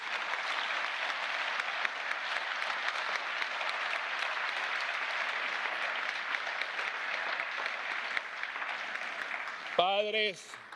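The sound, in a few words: audience applause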